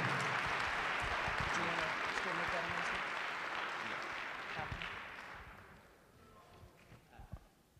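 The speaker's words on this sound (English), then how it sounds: "one more well-deserved round of applause for our student minister, Dr. Wesley Muhammad." Audience applause for a student minister at a lecture event: a broad wash of clapping that begins full, then fades over several seconds, with scattered claps and faint voices near the end.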